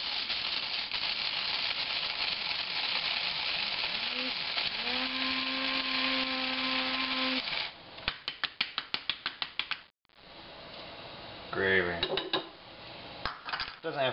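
Electric grinder whirring steadily as it grinds coffee beans for a home-brewed java stout, loud and continuous, then a run of rapid clicking pulses, a brief pause, and renewed grinding with faint talk.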